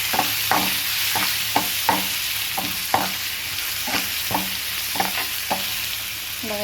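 Curry leaves sizzling in hot oil in a pan for a badam and tomato pachadi, a loud steady hiss broken by about a dozen regular scraping stirs close by.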